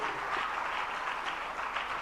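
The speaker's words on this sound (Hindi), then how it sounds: "एक बार जोरदार तालियां हमारे सभी विद्वानों के लिए।" Applause from an audience at a closing session of a religious discourse series in Agra, honouring the scholars; a steady, dense wash of many hands clapping, moderately distant and even throughout, with no talk over it.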